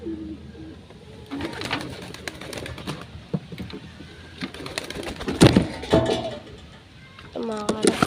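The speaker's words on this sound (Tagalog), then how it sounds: "Ito mga kalapatids." Pigeons coo in a series of low, throaty calls at close range, mixed with people talking and some knocking and handling noises nearby.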